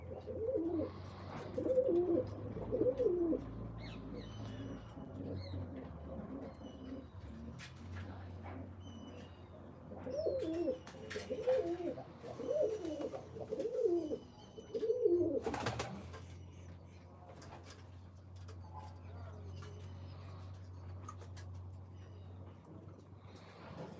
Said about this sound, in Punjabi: ਇਹ ਚ ਕੱਲੇ ਕਬੂਤਰ ਆ ਗਏ ਤੰਗ ਕਰਦੇ ਆ